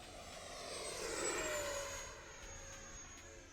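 Freewing 70mm F-22 Raptor RC jet making a high-speed pass, its ducted-fan whine rising as it approaches, peaking overhead and sliding down in pitch as it recedes into the distance.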